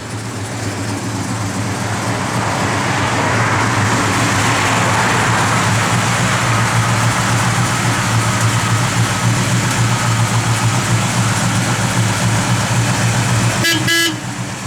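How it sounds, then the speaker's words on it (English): A 1972 Plymouth Road Runner's blower motor runs steadily at a loud, even roar inside the cabin for about fourteen seconds, with a brief clatter near the end. "Blower motor works."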